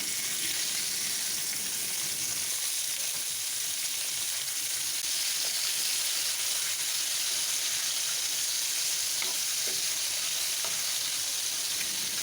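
Green and dried chilies sizzle steadily in a hot pan, a continuous close frying hiss lasting throughout with a few soft stirring touches and no talk.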